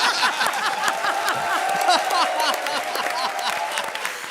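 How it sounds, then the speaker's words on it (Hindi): An audience bursts into applause at a comedy show, many hands clapping in a dense, fairly soft patter that carries on steadily, with a bit of crowd murmur beneath. "ठोका ताली"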